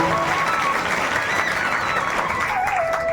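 A crowd claps at a public welcome ceremony, with sustained dense applause running throughout.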